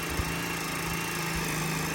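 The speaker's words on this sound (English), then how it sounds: "I think it started drilling better, yeah. Softer wood now." A battery drill bores into soft wood, giving a steady, close motor whine with a rough, buzzing grind that runs unbroken throughout without pause.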